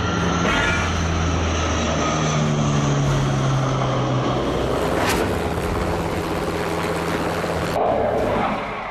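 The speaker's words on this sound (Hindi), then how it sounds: "लड़ाकू विमानों के रिहर्सल, राफेल सुखोई का एक्शन जल्द।" Rafale and Sukhoi fighter jets roar over the Purvanchal Expressway during a rehearsal, a loud sustained engine rumble with a rising whine that swells and sweeps past before fading near the end.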